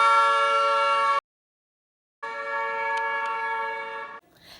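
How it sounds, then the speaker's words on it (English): A car horn sounds as a car drives past. One sustained tone blares, stops, and then returns steadily after a gap of silence. "such as when a car honking drives past you"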